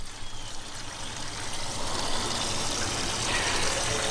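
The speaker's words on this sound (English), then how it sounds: "Got the hose in there." Garden hose running into a container during a Flex Tape patch leak test, a continuous close rushing and splashing stream that stays even and loud throughout.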